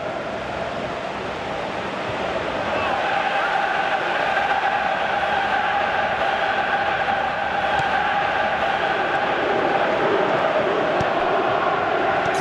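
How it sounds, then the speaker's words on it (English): Stadium crowd in the PES 2018 football video game during a Colombia vs England World Cup match, a steady, swelling roar of many voices that holds at a constant level throughout. "at least the crowd are appreciative of his efforts"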